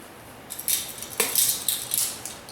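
Kosher salt goes into bread flour in a bowl: a handful of light, close scrapes and soft clinks from a spoon, scattered over a couple of seconds.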